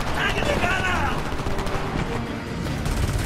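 Machine gun fire from a second-floor window in the Homefront war game, rattling bursts mixed with booms and battle noise while a voice is heard over the chaos.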